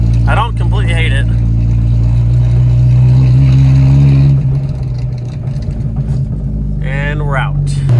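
The engine of an MK2 Jetta with its exhaust fallen off runs loud, a heavy low rumble that holds steady and close. Its tone shifts slightly partway through, with brief voice-like sounds over the top.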